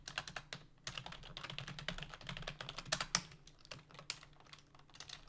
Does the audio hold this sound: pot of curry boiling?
no